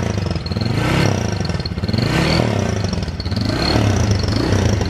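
A worn Honda CG 150 motorcycle built up to 220cc with Falcon 400 fuel injection runs close by, its engine revving in repeated swells over a rough, steady idle, loud and with no talk.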